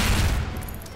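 A loud burst of gunfire in the video game Garry's Mod DarkRP, a dense booming volley that fades over one second.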